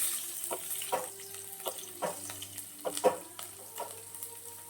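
Chopped onion goes into hot oil already frying with chana dal and dried red chillies for a carrot stir-fry, giving a steady low sizzle broken by regular scraping stirs, close up and with no talking.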